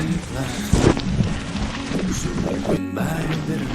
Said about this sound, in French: oui, il pleut.